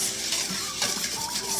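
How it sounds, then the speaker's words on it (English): Soup is whisked together with stock in a bowl for a chicken casserole, a short burst of close, scraping clinks and stirring sounds. "Okay, so I'm gonna whisk this"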